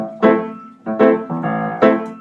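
A left-hand piano bass riff, played alone as a few loud, sharp-attacked phrases that repeat with short gaps between them.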